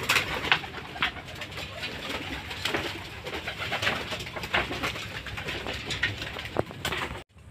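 Racing pigeons cooing around a loft during a flying session, a steady crowded chorus of soft coos with fluttering wing noise, close and continuous throughout, with no talking.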